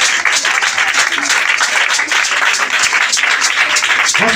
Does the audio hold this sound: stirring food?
no